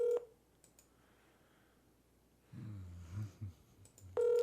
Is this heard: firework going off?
no